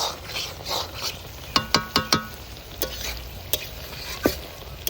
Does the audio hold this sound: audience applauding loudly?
no